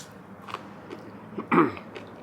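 Close, crisp crunching bites of spicy pickled vegetable from a self-heating instant hot pot, a few soft chews followed by one louder crunch near the end, with no talking.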